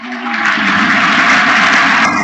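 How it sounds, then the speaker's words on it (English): Warm, full round of audience applause for Professor Rory at a lecture, dense steady clapping rising quickly and holding loud throughout. "join me in one final warm and rapturous round of applause for Professor"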